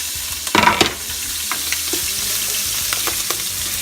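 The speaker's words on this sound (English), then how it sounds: "I want the sear. I want it to kind of toast the garlic pretty quick." Garlic and red onion sizzle and fry steadily in a hot pan, with a burst of louder crackling early on and a few stirring clinks, no talk.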